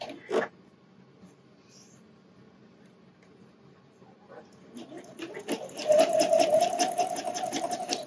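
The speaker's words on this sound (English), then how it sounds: "we will be sewing along this inner edge of the elastic with a dense zigzag stitch" A sewing machine runs a dense zigzag stitch along the inner edge of bra strap elastic for a wireless bra, starting after a quiet pause with a steady, close mechanical whir that holds loud to the end.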